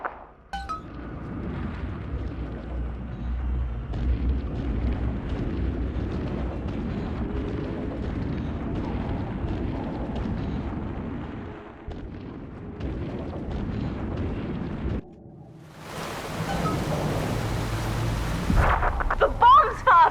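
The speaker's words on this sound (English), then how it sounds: "The bombs, Father! We're falling!" Bombs rumble and explode in the underwater city of the video game Bioshock 2, a long, loud, deep roar with heavy crashes, a sudden brief drop, then a bright hissing burst near the end.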